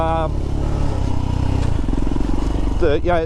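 Royal Enfield Himalayan motorcycle loaded with tanks and a back rack, its engine droning steadily and loud throughout as the bike rides, with shifting engine tones and a brief rise near the end.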